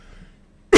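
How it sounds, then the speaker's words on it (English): A single sharp, loud cough from a man recovering from pneumonia bursts out at the end after a near-silent stretch. "I do have a nasty cough"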